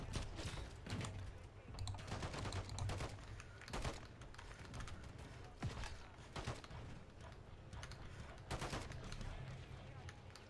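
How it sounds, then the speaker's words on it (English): Gunfire during a Call of Duty match on the Shipment map, a string of sharp shots and short bursts spread across the clip, fairly faint and mixed with clicking keyboard taps and some speech. "don't know how he survived me shooting him"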